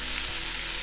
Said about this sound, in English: let it sizzle a little bit